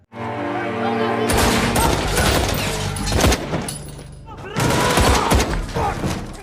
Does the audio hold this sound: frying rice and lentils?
no